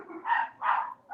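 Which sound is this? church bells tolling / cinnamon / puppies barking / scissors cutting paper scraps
puppies barking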